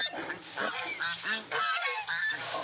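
Nearby geese give a string of raspy honks in quick succession, loud and continuous.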